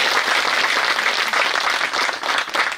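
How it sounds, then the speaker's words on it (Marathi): An audience bursts into loud, dense applause after Prithviraj Maharaj Gaikwad Patil's first kirtan performance. The clapping is continuous and even from start to finish, with no talking. "जोरदार टाळ्या वाजवून त्यांचं आपण कौतुक करू"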